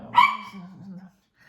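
A single dog gives one close, loud bark followed by a short trailing whine, ending in silence.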